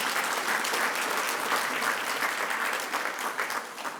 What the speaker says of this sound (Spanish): a quien recibimos con fuerte y caluroso aplauso